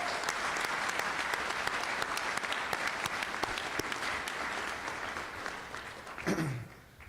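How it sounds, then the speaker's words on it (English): A convocation audience at Averett University gives the alumni representatives a round of applause, dense sustained clapping from a large crowd that thins and fades toward the end. "join me in giving our alumni representatives another round of applause"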